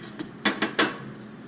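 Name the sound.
stirring flour with salt and pepper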